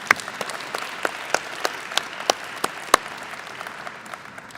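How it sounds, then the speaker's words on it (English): Audience applause at a military change of command ceremony for the 76th Airlift Squadron, a steady wash of clapping with sharp individual claps standing out, moderately loud in a large room. "Can I get a round of applause for them, please?"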